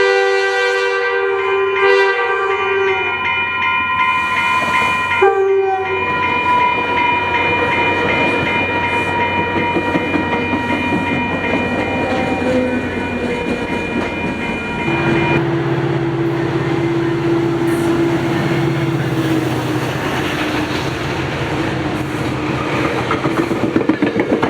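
FrontRunner commuter trains pass a crossing in Utah, one led by locomotive 103 and one by 20. A loud steady horn blares first, then a heavy continuous rumble and rolling clatter of cars, with a lower horn tone later.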